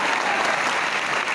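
Audience at a motivational seminar clapping, a dense, continuous burst of applause from a large crowd filling the whole moment without speech.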